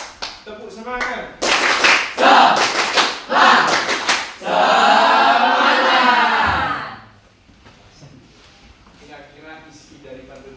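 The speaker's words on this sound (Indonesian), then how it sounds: "Tepuk semangat." A classroom group claps in quick rhythmic bursts as a motivational clap chant, then breaks into a sustained round of applause and cheering that fades out.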